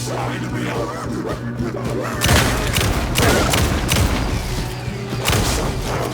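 Gunfire in the video game Alan Wake 2, a dense barrage of loud shots and booms over a low droning game soundtrack, sustained and heavy throughout.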